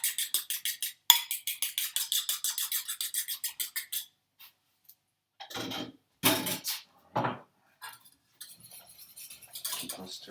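A fork whisks egg yolk and cream in a bowl, a fast steady run of light metallic ticks and scrapes that stops, then returns as scattered, separate clinks close up.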